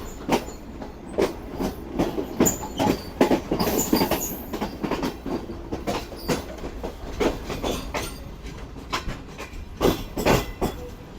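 Pakistan Business Express train running on rails near Khanpur yard, with a steady rhythmic clickety-clack of wheels over rail joints, a rumbling carriage and brief squeals, heard from on board.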